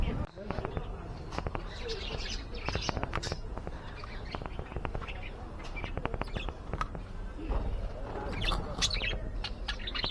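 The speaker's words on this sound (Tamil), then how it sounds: "இது இந்த ஷூட்டிங் ஸ்பாட்டில் இருக்கிற ஒரு லவ் பேர்ட்ஸ் தான்" Pet lovebirds at a film shooting location chirp in quick repeated bursts, close and fairly busy, over a steady background murmur.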